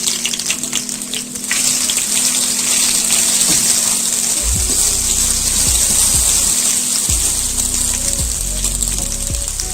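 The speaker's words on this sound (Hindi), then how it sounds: "थोड़ा सा पानी डालेंगे।" Water poured into a sizzling pan of browned onion and spice masala gravy for beef kofta, giving a loud, steady gushing hiss that swells after a brief lull and runs on for several seconds without speech.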